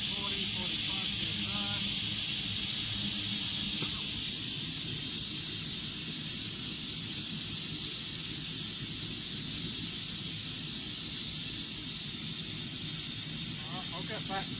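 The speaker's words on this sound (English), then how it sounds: "the steam's really clean. You can see the steam into it right out here" Clean steam hisses continuously from a waste-oil rocket stove boiler running at 40 PSI through half-inch copper pipe, a loud, broad, steady rush that barely changes over the whole stretch.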